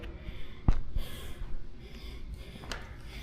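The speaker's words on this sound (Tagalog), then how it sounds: "Hingal na tayo guys." Close, heavy panting after climbing floors of an unfinished building with a laptop in tow, several quick breathy huffs and short snorts in an uneven rhythm, moderately loud, with no speech.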